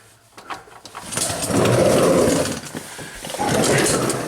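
An all-wheel drive car with a CVT pulls away after a U-joint replacement, the engine rising into a steady drone, easing briefly, then climbing again, with faint sounds of a person in the car.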